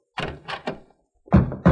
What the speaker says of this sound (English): Stand back, Mike. I'll open the door.